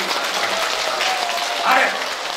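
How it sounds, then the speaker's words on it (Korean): Audience in the Gyeyang district office main auditorium applauding the district mayor at a laughter-movement lecture, a steady wash of clapping throughout with a brief swell near the end and some voices mixed in. "우리 청장님한테 박수 한번 더 크게 하세요"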